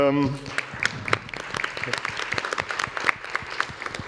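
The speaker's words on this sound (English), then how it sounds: "let's give a little applause to Anna" An audience at a conference session on human-centric automated driving and driver safety claps for a presenter, scattered sharp hand claps forming modest applause after a brief spoken phrase at the start.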